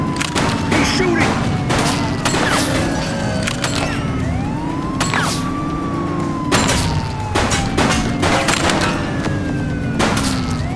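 Gunfire in the police simulator game The Precinct: repeated loud sharp shots in bursts across the clip, over sirens wailing and steady engine rumble, with some radio-like voice chatter.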